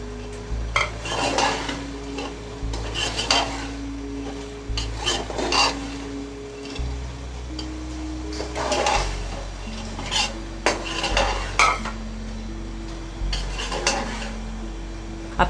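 Lentils are stirred into minced meat in a metal pot for qeema with whole masoor, giving steady scraping and clinking of a spoon against the pot over a faint sizzle, close and continuous with a background music bed.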